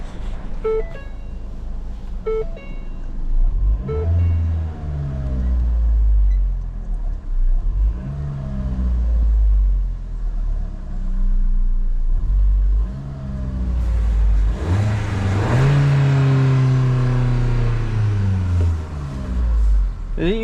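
A Ford Fiesta engine with overheating and no-start trouble revs in several rising and falling sweeps, then winds down slowly toward idle, loud and close, with people talking over the engine.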